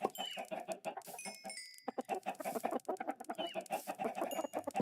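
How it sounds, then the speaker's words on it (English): Chickens cluck continuously in a Minecraft-style farming game, a busy overlapping chorus of short, rhythmic clucks with a few higher game tones mixed in, fairly quiet and with no talking. "breed the chickens"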